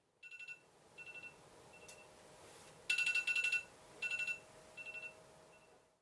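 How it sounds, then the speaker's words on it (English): A phone alarm going off at 6:30 in the morning: a faint electronic ringtone that chirps in short repeated bursts, alone in a quiet room. "It's 6:30 a.m. and my alarm starts going off."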